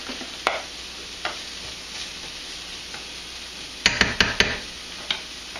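Egg with salsa and kale cooking in a pan, a steady soft sizzle with a handful of sharp utensil scrapes and clicks, including a quick cluster near the end.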